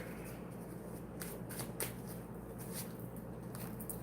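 Tarot cards shuffled in a continuous soft riffling patter with a few sharper flicks, close and quiet, with no talk.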